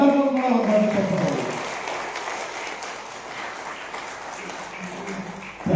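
Audience applause at an Alliance Clubs International District 255 gathering: steady broadband clapping from a crowd that swells after a voice trails off at the start, then holds at an even level to the end.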